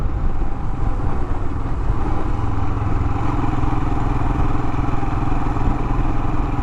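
Royal Enfield Himalayan motorcycle riding at steady speed, its single-cylinder engine thrumming loud and close under a constant rush of wind and road noise, with no voices.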